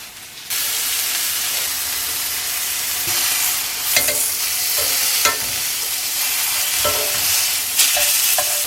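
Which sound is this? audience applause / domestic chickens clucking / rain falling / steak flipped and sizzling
steak flipped and sizzling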